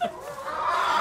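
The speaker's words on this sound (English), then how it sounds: "Let's pet some chickens." Soft clucking from chickens nearby, a short steady murmur of fowl sounds without any talking.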